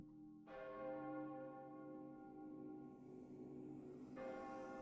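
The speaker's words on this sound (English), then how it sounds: "The sound of its bell tolling louder and louder as it does." A deep bell tolls with rich, ringing overtones, one long stroke fading before a second strike, heard alone and fairly faint as if at some distance.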